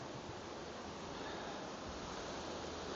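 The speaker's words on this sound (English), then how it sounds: "Look at those waterfalls right out the back window" Waterfalls at Acriggs Falls in Swatara State Park, Pennsylvania, heard from inside a cabin by the back window: a steady, dense rush of falling water, constant and full with no breaks and no voices.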